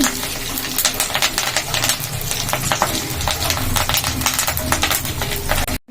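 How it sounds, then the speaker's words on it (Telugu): Curry leaves fry in hot oil with a loud, steady crackling sizzle full of rapid pops and spits, close up and continuous with no voices. "కరివేపాకు ఇష్టం లేని వాళ్ళు స్కిప్ చేయొచ్చు కాకపోతే నూనెలో వేగి మనకు మంచిగా అవుతుంది కరివేపాకు వేసుకోవాలి"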